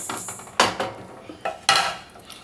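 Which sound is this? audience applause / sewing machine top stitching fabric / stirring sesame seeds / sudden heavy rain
stirring sesame seeds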